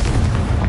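A Confringo spell explosion in Hogwarts Legacy, a short, loud, booming burst with a deep rumbling body that fills the whole moment.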